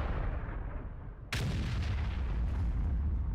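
A tank's artillery cannon fires in the video game World of Tanks. One sharp, heavy blast comes after a low rumbling background and leaves a long booming tail, and nobody speaks.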